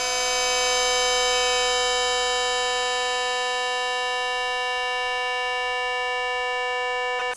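A sustained, buzzy drone of stacked steady tones with a strange smeared quality, time-stretched in SPEAR software, holding for several seconds before ending in a short crackle.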